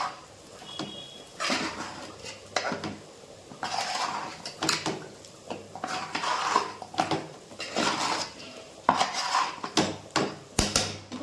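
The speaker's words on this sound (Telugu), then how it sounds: "ఇప్పుడు కలుపుదాం విరిగిపోకుండా జా జాగ్రత్తగా కలుపుకోవాలి" Fish fry pieces are gently stirred with turmeric in a pan, giving repeated scraping and clinking of a utensil against the metal pan in irregular bursts, fairly close and with no talking.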